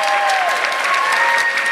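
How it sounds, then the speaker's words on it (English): Audience applause at an Illinois gathering, a dense, steady patter of many hands clapping at close range throughout the short burst. "Give him a round of applause."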